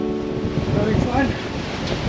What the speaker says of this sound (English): All this wind.